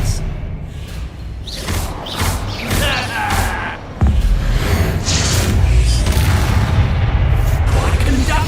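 Repeated spell explosions and impacts in combat in the video game Hogwarts Legacy, loud booms and thuds arriving in quick succession, with a sudden heavier blast partway through and dense crashing continuing after it.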